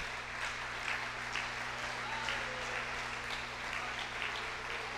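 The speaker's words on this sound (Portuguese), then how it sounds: "Se você quer aplaudir, aplauda o Senhor com vontade mesmo" Sustained applause from a church congregation, a steady dense clatter of clapping hands under a low constant hum.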